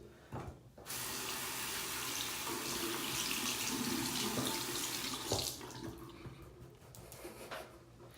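Tap water runs onto a hard hairbrush to wet it, a steady close splashing stream that starts after a brief gap and continues with slight changes as the brush moves under it.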